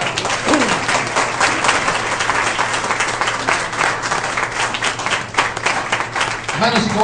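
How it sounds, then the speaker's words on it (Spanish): A church congregation applauds the Lord, a dense, steady wash of clapping filling the room throughout, with voices mixed in beneath it. "Dale un aplauso al Señor."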